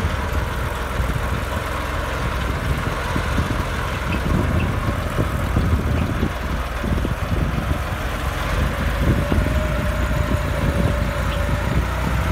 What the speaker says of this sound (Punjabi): ਸਿਰਫ 1000 ਚੱਕਰ 'ਤੇ ਚੱਲ ਰਿਹਾ ਟਰੈਕਟਰ ਅਤੇ ਆਰਾਮਦਾਰ ਨਾਲ ਟਰੈਕਟਰ ਤੁਰਿਆ ਫਿਰਦਾ ਜੀ